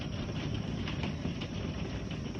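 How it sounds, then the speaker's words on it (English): Hail pelts a house in Hoover, Alabama during a storm, a dense, steady roar of hard impacts with no pauses, loud and close throughout. "It's just hail. It's hitting the house."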